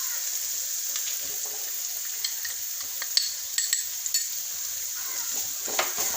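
Spice powder is stirred into onions frying for pickle, a soft steady sizzle broken by scattered scrapes and clinks of a spoon against the pan, close by with no talking.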